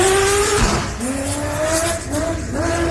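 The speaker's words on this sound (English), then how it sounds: "The rev limiter popping and protesting on the 952" A 952 off-road race car at the Loveday 400 race, its engine screaming near full revs with rising and falling tones and crackling limiter stutter, loud and continuous under faint commentary.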